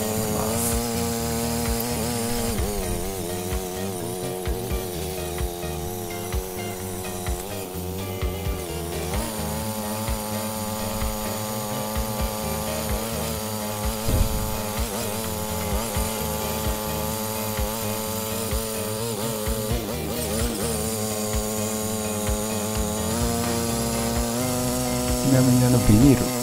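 Honda F220 mini tiller engine running continuously in a garden, a steady buzzing four-stroke drone with slight rises and dips in pitch, voices speaking faintly over it.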